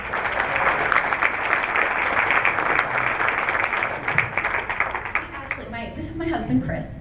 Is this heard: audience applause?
yes